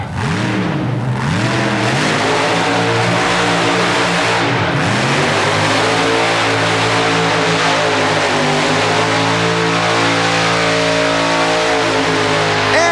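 A fuel-injected Chevrolet super modified mud racer at an indoor 1991 mud race in the Minneapolis Metrodome revs up and down in rising and falling surges, then holds a sustained, very loud full-throttle roar.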